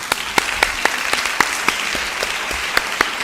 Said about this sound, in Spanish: Un aplauso para el chaval.